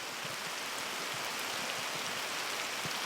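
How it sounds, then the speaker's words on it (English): Steady rain pattering densely on a riverbank gravel bar and cracked grass in late May, an even wash of drops with no voices. "A rain shower is pummeling the gravel bar, pattering on the cracked grass"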